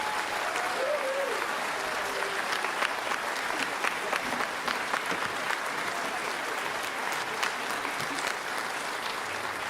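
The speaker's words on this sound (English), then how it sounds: "Would you mind giving them one more round of applause" Audience applause fills the hall after a spring orchestra concert, a steady dense clapping that holds loud and even for the full stretch, with faint voices and crowd murmur mixed in underneath.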